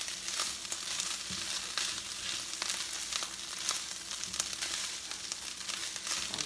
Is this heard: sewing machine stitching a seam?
no